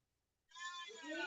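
A cat lets out a drawn-out, wavering meow after a second of near silence, close and fairly loud, its pitch sliding as the call continues.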